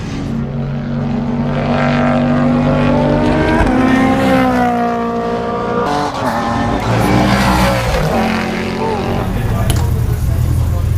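A loud V8 race car engine roars closer, its pitch climbing and then dropping as it passes by, with a voice speaking faintly underneath.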